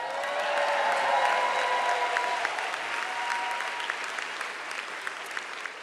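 Graduates and families at a Smith College School for Social Work commencement break into sustained applause, a dense wash of clapping that swells early, then slowly thins and fades over several seconds.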